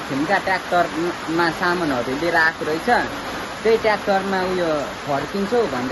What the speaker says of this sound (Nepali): तर ठुलो पानी पऱ्यो क्या।